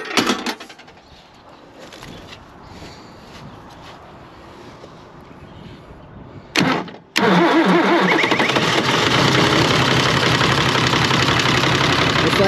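A tractor engine is cranked with the key and catches, then settles into a loud, steady idle that runs on continuously, close by, with no talk over it.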